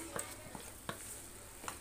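A utensil scrapes and taps against a pan while a thick bottle gourd barfi mixture is stirred over a soft background sizzle, with a few distinct clicks.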